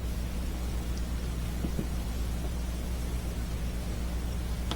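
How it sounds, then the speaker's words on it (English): Rain falls steadily outside on a cold, dreary day, a faint, even hiss that holds constant throughout with a low background hum and no talk. "Sounds like our rain has started."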